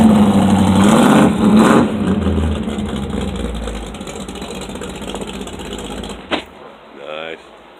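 1957 Chevy station wagon with a new stainless steel exhaust and turn-down tailpipes cranks and starts, settling into a loud rumbling idle that slowly fades, with people talking nearby and a sharp knock near the end.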